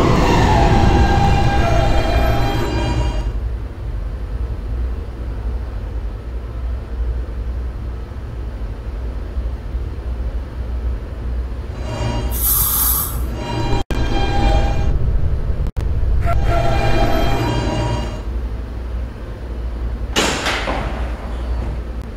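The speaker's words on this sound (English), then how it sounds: "This is a Catlin bound E train." Roblox PTA Subway R160B Siemens E train rumbles steadily along the track, a loud continuous low drone with rail clatter, broken by a few sharp high squeals and hisses from the wheels or brakes.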